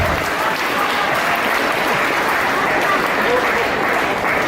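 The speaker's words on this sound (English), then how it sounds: "Give him a round of applause for being our volunteer once more." An audience gives a volunteer a round of applause, sustained dense clapping that stays steady and fairly loud throughout with a faint murmur of voices beneath.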